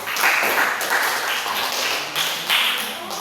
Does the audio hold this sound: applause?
yes